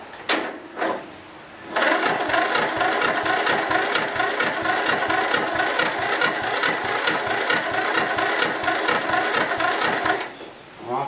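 Lawn mower left unstarted for a year cranks with a couple of short bursts, then catches and runs at a steady rattling idle close by for about eight seconds before shutting off.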